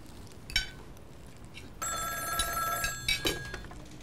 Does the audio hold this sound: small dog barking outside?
no